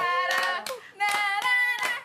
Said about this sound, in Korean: 형님 박수 칠 때가 아니에요